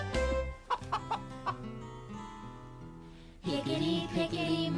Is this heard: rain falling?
no